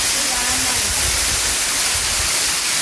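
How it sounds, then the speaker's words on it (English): A waterfall pours beside a creek, a loud, steady broadband rush and hiss filling the whole short stretch without a break, with faint low rumbles beneath. "If you hear the sound in the background, that's this waterfall over here."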